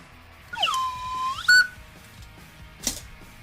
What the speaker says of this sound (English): I deserve the whistle. I gotta give myself the whistle on this one.